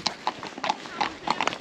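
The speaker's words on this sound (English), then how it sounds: "that's your first horse, Oscar." Horse hooves clip-clop in a quick, regular beat of sharp knocks close by, with voices in the background.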